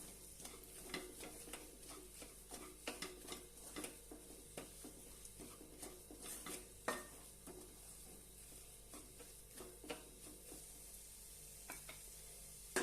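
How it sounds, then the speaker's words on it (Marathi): Half a cup of gram flour (besan) being stirred and roasted in a pan for a methi besan dish, with soft continuous sizzling and repeated scraping spoon strokes at a low, close level. "अर्धी वाटी बेसन पीठ आहे ते घालूया छानपैकी परतून घेऊया"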